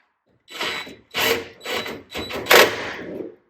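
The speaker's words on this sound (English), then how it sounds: "Okay, strain relief clamp now. I'm going to go ahead and tighten this up." Four short bursts of ratcheting and turning, close and fairly loud, as a strain relief clamp on a 4-prong electric dryer cord is tightened, with brief pauses between bursts and no talking.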